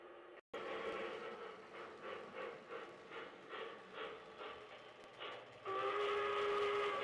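A model railroad sound decoder plays steam locomotive chuffs, a regular rhythm of soft puffs over a steady hiss, ending in a louder sustained whistle-like tone.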